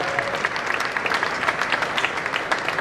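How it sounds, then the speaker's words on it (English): Brief, steady applause from a crowd at a media conference for Prestone and the Ring Brothers car builders, dense clapping heard close and loud with no talk over it. "How about a round of applause for these guys?"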